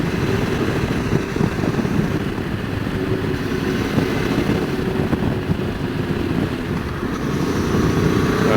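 QJ SRT600SX motorcycle cruising along a departmental road in the Lot valley, with a steady, continuous engine drone and wind rush throughout, close and fairly loud with no breaks.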